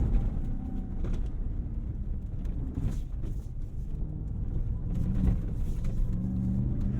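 A 2022 RAM TRX pickup truck accelerates on the road, its engine a steady, loud low rumble that holds and swells slightly as it picks up speed, with no talking.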